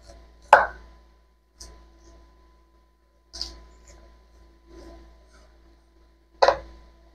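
Dried corn kernels being cut with a knife: five separate chops at uneven intervals, each a sharp close thud with small knocks in between and near silence around them.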